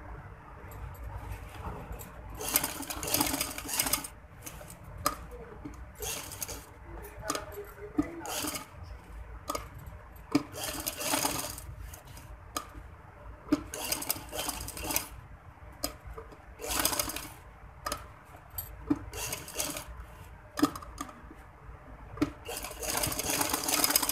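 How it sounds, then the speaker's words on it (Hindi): A sewing machine stitches a rumal-cut (hanky-cut) frock along marked flower sections, running in repeated short bursts of rapid mechanical whirring separated by brief pauses, steady and close throughout with no talk. "अब हम यहाँ पे सिलाई लगाएंगे रेड रेड वाले हिस्सों पर"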